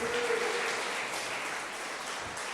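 A church congregation gives a strong round of applause to Jesús during a healing service, a fairly soft, steady patter of many hands clapping together with a brief voice near the start.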